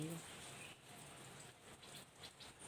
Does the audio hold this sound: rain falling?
yes